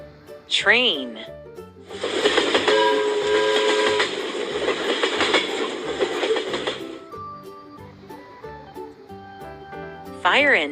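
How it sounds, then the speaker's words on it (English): A steam train sounds its whistle, a loud sustained tone over hissing steam for about five seconds, set against light music with a short voice heard before and after. "Train."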